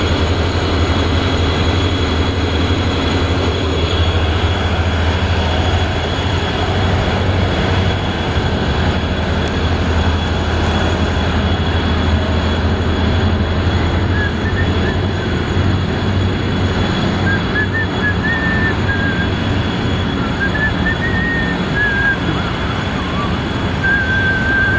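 A Coaster commuter train idles at a station on the line to Oceanside, a steady loud rumble of engine and rail noise running throughout, with faint squeals and a distant hum rising toward the end.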